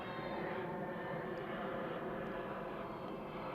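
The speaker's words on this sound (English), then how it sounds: "I hope you can hear me with the plane flying overhead, just leaving, I guess, going to Logan." A plane flies overhead near a youth baseball game, a low steady engine roar filling the background, faint and distant but continuous.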